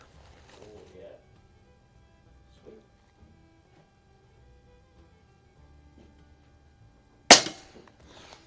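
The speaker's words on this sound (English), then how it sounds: "Got some guys over here sharing the range with me today, so have to deal with some gunfire" A single sharp gunshot from another shooter at an outdoor shooting range, loud and sudden near the end after a long quiet stretch with faint background movement.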